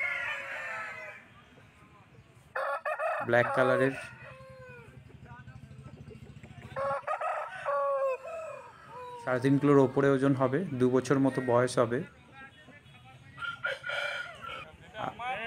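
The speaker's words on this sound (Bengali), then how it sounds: "খুব সুন্দর মোরগ দেখছেন আপনারা।" Roosters crow repeatedly, loud and close, in several long bursts at a rural livestock market in Jhargram, West Bengal, mixed with clucking and someone speaking between and over the calls.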